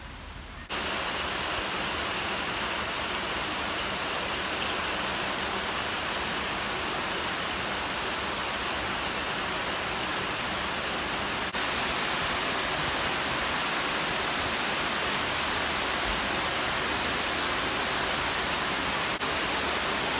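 Heavy rain falls outdoors at MacRitchie in Singapore, a dense, even roar of downpour that stays loud and steady for the whole stretch with no voices.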